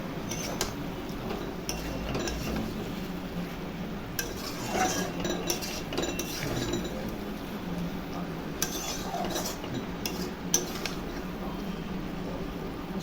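Chicken curry being stirred and browned in a pot, a utensil scraping and clinking against the metal in steady irregular strokes, fairly quiet and continuous with no talking.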